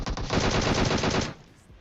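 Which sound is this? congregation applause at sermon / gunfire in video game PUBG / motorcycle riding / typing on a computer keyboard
gunfire in video game PUBG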